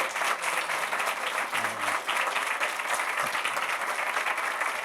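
A workshop audience applauds warmly at the close of a session with Dr. Robert Metcalfe, a thick, continuous wash of clapping that stays steady for nearly five seconds, with a brief low murmur partway through.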